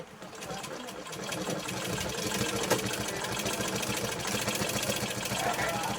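A sewing machine runs steadily in a fast, even mechanical chatter of rapid stitching, close and continuous after a brief start, with no pauses.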